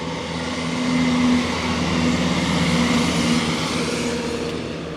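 A train rumbles steadily past a small rural station in Suffolk, a broad, sustained roar with faint tonal whine, loud and constant throughout, with no voices.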